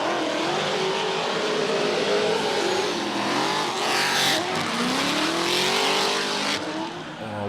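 Racing cars roar past at high revs, engines whining and shifting, with tires squealing briefly amid the continuous loud motor noise.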